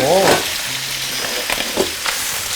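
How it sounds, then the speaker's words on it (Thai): Shrimp fry loudly in hot oil, a dense, close, continuous sizzle with bubbling crackles throughout and a brief tonal voice-like sound at the very start. "ทอดกุ้งเลยครับ"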